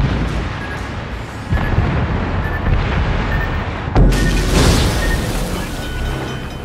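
Naval video game battle with a torpedo striking a warship: sustained heavy rumbling booms and blasts, a sharp impact burst midway followed by a swelling roar, loud and close, no talk.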